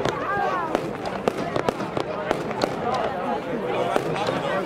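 Rapid crackling bangs of fireworks at a fireworks show pop in quick succession, loud and continuous, with people talking underneath in Dutch.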